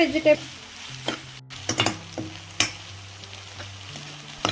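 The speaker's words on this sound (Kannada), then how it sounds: "ಕ್ಯಾಪ್ಸಿಕಮ್ ಸ್ವಲ್ಪ ಫ್ರೈ ಆಗಿದೆ, ಸಾಕು." Red and yellow capsicum fry in a pan with a steady sizzle, while a spoon scrapes and clatters against the metal in quick, irregular strokes, close and fairly quiet.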